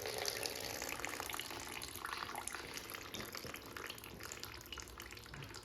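Antifreeze coolant draining from a 1950 Ford F1 flathead engine: a steady, soft splashing trickle of liquid running continuously, fairly faint and alone.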